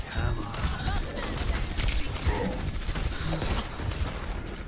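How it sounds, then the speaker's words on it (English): Ashe firing her rifle in Overwatch during a hectic team fight, dense gunfire and game effects layered under a continuous busy mix with steady loud level throughout. "This Ashe is behind you shooting you."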